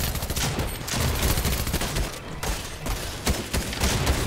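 Rapid SMG bursts in Fortnite, dense repeated automatic gunfire crackling in quick volleys with short gaps, loud and close throughout.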